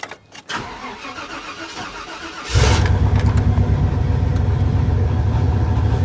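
An old 1981 Lincoln Continental Mark VI V8 engine cranks and turns over, then catches and settles into a loud, deep, rumbling idle with a throaty exhaust burble.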